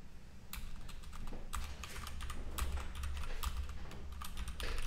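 Fast, uneven clatter of keys as someone types code on a computer keyboard, close and steady for the whole stretch with no talk, under a low hum.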